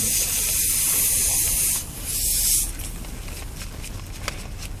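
An air gun leaks with a loud, steady hiss during a steering gear box replacement, two close bursts of spraying air before it drops to a quieter background.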